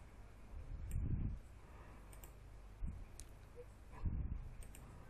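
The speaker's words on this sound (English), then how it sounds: "Click here. Click to another place." A few soft computer mouse clicks in Adobe PageMaker, spaced irregularly over quiet room noise, faint and close.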